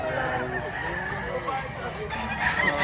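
A rooster at a Batangas poultry market, its clucks and calls faint beneath continuous nearby talk and crowd noise.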